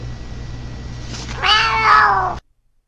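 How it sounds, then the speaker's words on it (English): A cat lets out a strained, nasal, quacking meow that sounds like a cartoon duck, close and loud over a low steady hum, then cuts off abruptly. "So here's a cat doing his best Donald Duck."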